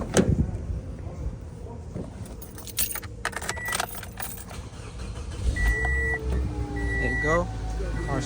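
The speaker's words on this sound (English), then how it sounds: "Now I'm gonna start the car for you guys to see." A Toyota Matrix with a failing alternator starting up nearby, keys jangling before the engine cranks and settles into a steady idle, with chime-like beeps sounding and a person talking over it.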